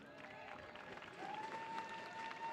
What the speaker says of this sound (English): On peut les applaudir également, s'il vous plaît.